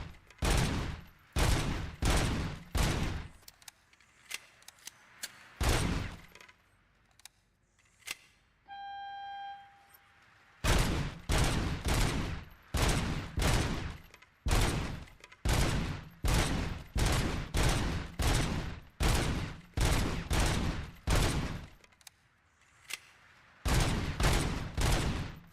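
Rapid bursts of gunfire from a shooting range in the video game RoboCop: Rogue City, loud repeated volleys in quick rhythm with a short pause midway where a tonal beep sounds, then the volleys resume.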